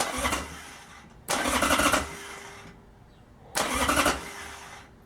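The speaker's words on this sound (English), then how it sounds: "See, we're cranking it." A Harley-Davidson XLH Sportster on a stand with a newly installed battery cranks in three separate loud bursts of starter whir, with quieter pauses between them, and the engine never catches.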